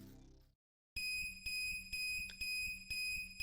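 A radiation detector in a video game beeps in a fast, regular series of sharp, high tones after a brief silence, loud and insistent.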